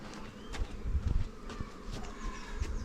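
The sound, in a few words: bees buzzing around a beehive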